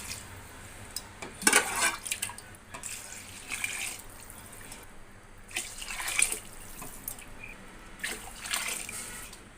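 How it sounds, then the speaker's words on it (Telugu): Water is poured from a glass into a pot of rice for cooking, in a few splashing bursts with quieter gaps between them. "నేను 4 గ్లాసులు వాటర్ అయితే యాడ్ చేస్తున్నాను"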